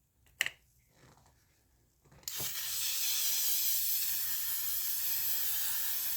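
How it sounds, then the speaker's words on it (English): A faint click and rustle, then a long continuous hiss of L'Oreal makeup setting spray mist starting abruptly and running steadily to the end. "I'm going to go ahead and go with L'Oreal's setting spray"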